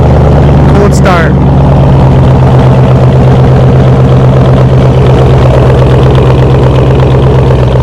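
A Chevy SS with a stage 3 cam idles on a cold start, a very loud, deep, steady engine rumble with a rhythmic choppy lope that runs the whole time, with a brief voice near the start.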